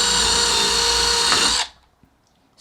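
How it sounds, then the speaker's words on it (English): A power drill bores into a wooden board for a floating banquet-table runner, a loud steady whine running about a second and a half before cutting off abruptly, then near silence with a faint tap. "what you want to do is just drill into the board."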